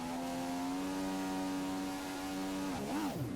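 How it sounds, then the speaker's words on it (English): McLaren F1 car engine in the racing game F1 2016, held at a steady high-pitched rev while in neutral, then briefly wavering and dipping near the end. "just bring the revs up a bit, and here we go."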